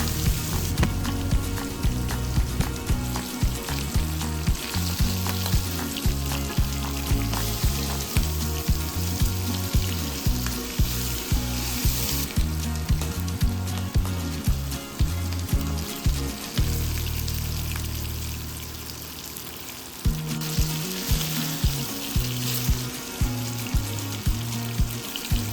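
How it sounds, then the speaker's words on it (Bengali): Hilsa fish pieces sizzle steadily in oil in a frying pan, a close, continuous frying crackle with periodic turning and stirring knocks and a brief quieter lull partway through; no voices. "সম্পূর্ণ ভাজা হয়ে আসা আগ পর্যন্ত ইলিশ মাছের পিসগুলো এপিট ওপিট করে ভাজতে থাকবো।"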